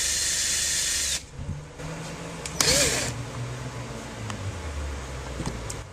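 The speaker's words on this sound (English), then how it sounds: "When you're drilling plexiglass, you don't want to put any pressure on it." A power drill boring into a sheet of plexiglass for a homemade dog door, giving a steady high whine for about a second, then lower, uneven grinding and mechanical noise that varies for several seconds.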